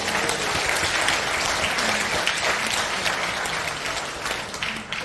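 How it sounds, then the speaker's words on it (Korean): A large audience applauds in a church prayer meeting held in an underground auditorium, with sustained, dense clapping that stays steady and loud throughout before easing slightly at the very end. "큰 박수 부탁드립니다."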